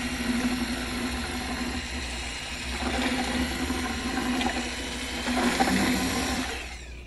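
A half gallon of Pearlizer is mixed into a gallon of koi orange Plasti Dip by a motorized mixer, giving a steady whirring drone with churning liquid swells, continuous and close, no talk.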